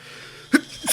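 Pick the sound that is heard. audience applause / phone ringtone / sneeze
sneeze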